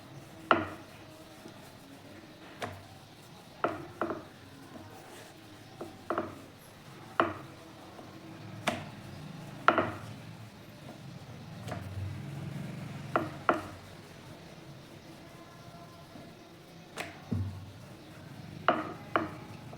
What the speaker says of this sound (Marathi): ही बघा मी एक चपाती लाटून घेतली